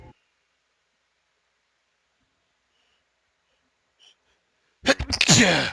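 A single sharp sneeze bursts out loud and close near the end, after a long stretch of near silence broken only by a faint brief noise.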